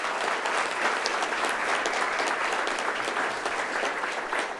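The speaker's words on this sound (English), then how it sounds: "Let's give everyone a round of applause" Audience applause for city council candidates at a club forum, a dense, steady burst of many hands clapping, loud and sustained for several seconds.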